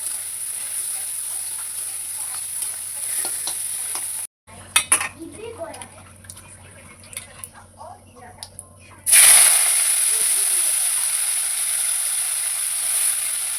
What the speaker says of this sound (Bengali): কড়াই তেল বসিয়ে দিয়েছি এটাকে একটু ভেজে নেবো গুগলিটাকে